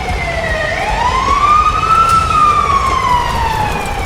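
A fire engine siren wails as the truck arrives at a tractor fire on a farm, one loud sweeping tone rising and then slowly falling, heard nearby over a constant low rumble.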